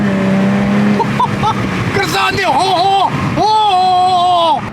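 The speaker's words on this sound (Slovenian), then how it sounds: "Še poka, stari. Malo pokat celo." A Jaguar F-Type convertible engine revs hard and rises in pitch, with exhaust crackles, loud and close, while someone speaks briefly over it.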